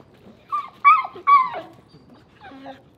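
A rescued mother dog makes a few short, high whimpering whines in close succession, close by and fairly clear, with quiet background noise between them.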